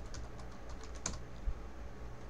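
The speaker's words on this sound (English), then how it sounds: "I'm going to go here and just type in cool service" Typing on a computer keyboard, a quick run of faint, soft key taps over steady background hiss, close by and without talk.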